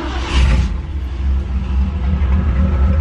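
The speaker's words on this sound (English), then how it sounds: "I mean, the truck does run." A Ford F100 truck engine runs steadily at a low rumbling idle, fairly loud and close, with a brief higher hiss at the start and no talking.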